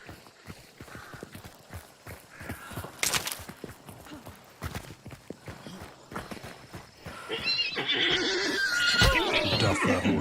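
A horse whinnies in a video game amid clip-clopping hooves and game ambience, with a louder, brighter stretch of activity toward the end.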